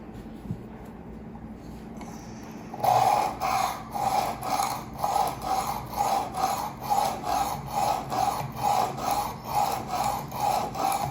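A knife is sharpened on a Work Sharp Precision Adjust sharpener: after a quiet start, steady rhythmic rasping strokes repeat back and forth, close and evenly paced, with no talking.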